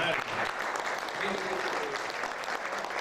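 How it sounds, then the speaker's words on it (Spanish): Loud, sustained applause from a crowd at a gold-record celebration for the group Ernesto Franco y Los Triunfadores, a dense wash of clapping that fills the whole stretch with some voices mixed in. "Ese aplauso fuerte"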